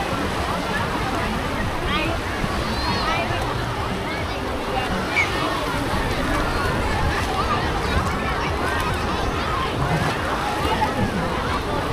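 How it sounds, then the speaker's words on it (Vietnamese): Busy seaside at Bai Chay beach in Ha Long, with a crowd of swimmers in the water, steady sloshing waves and wind noise filling the background, and people talking throughout. "Đấy, một biển người vẫn đang tắm ở đây này."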